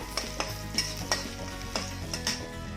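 Green chillies go into a pan of hot oil while cooking an Assamese fish and eggplant dish, giving a steady sizzle punctuated by sharp clicks of a utensil stirring and tapping the pan, close and fairly quiet.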